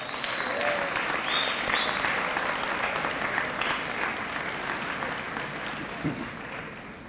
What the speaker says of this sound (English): give them a huge thank you and round of applause